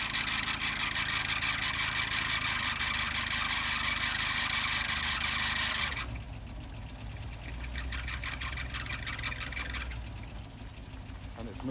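A 1979 Opel Monza barn find runs with its engine thrumming steadily as the car starts to move, a loud broadband rumble that drops slightly partway through, with excited voices talking over it.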